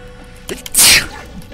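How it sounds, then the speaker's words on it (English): One sharp, loud sneeze of about a quarter second, heard close to the microphone against quiet background sound, with a small intake of breath just before it. "Pardon me, I sneezed."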